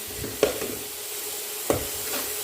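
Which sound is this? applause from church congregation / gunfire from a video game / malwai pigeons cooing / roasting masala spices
roasting masala spices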